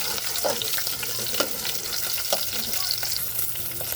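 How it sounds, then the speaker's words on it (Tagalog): Garlic and onion sauté in a pan for a Filipino dish, a steady close hiss of frying broken by a few spatula scrapes and light stirring knocks, with no one talking. "Sigisa natin ang bawang, nasunog. Bawang, sibuyas, paman."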